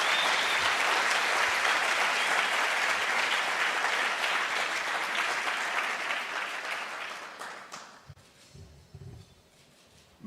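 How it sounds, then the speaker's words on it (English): A large audience gives a sustained round of applause for the Afreximbank president at a South African official ceremony, dense clapping filling the room for about eight seconds before tapering off to scattered claps. "give a rousing round of applause and thank you"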